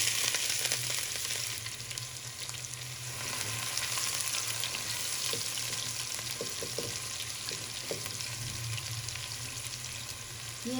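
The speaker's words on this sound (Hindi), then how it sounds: "ये 200 ग्राम प्याज है। ये हम फ्राई करेंगे।" Two hundred grams of sliced onion frying in 125 grams of oil for beef kofta, a steady, dense sizzle that holds close and even throughout, with faint stirring scrapes and no voices.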